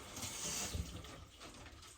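A hand is rinsed under a running kitchen tap, giving a soft, steady splash of water for about two seconds, faint and with no talking.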